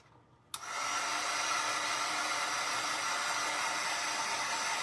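A hair dryer switches on abruptly after a brief quiet moment and then blows at a steady, loud, continuous roar while drying an embroidery hoop snowman craft.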